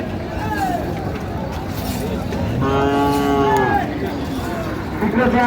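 Several Sahiwal cattle moo loudly and repeatedly over a busy background of people talking at a livestock market, with one long, drawn-out low in the middle.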